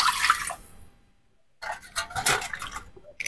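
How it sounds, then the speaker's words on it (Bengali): A wok being washed with water: a short splash and rinse, a second of near-silence, then a longer burst of running, sloshing water with scrubbing, close and fairly loud. "কড়াইটা ধুয়ে নেব।"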